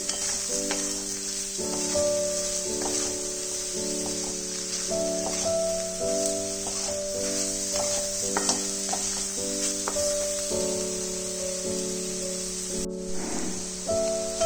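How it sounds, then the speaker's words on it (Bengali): Eggplant and potato fry in a pan with a steady, loud sizzle that runs throughout, broken by the scrape and clatter of stirring at irregular intervals, with no voices. "বেগুনটাকে ভালো করে আলুটার সাথে আমি ফ্রাই করে নিচ্ছি।"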